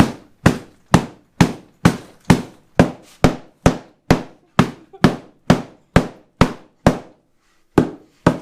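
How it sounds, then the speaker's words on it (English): A flexible piece of hose whacks car seats to knock out dust, about sixteen sharp, loud thwacks in a steady beat, with a short pause near the end before two more strikes. "just grab something flexible like this piece of hose or a coat hanger, and you can just start hitting them"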